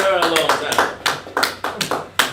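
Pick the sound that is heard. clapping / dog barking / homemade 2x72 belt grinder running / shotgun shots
clapping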